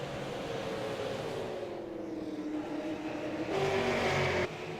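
Race cars run along the front stretch at Irwindale Speedway during a SARA Super Series 150 event, a steady engine drone with pitch sweeping down as cars pass, then a louder car roaring close by near the end.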